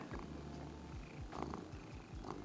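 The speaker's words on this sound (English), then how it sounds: "Are you gonna let everyone hear your purrs?" A cat purrs softly up close, a faint, rhythmic rumbling of repeated inhale and exhale pulses in an otherwise quiet room.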